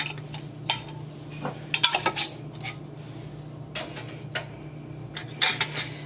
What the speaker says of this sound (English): Now I'm just going to put my lids and rings on fingertip tight and set these over into the canner.